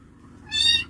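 A domestic cat gives a single short, close meow that rises out of quiet room tone.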